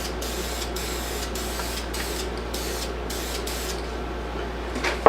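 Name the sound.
spray can spraying Helmsman white primer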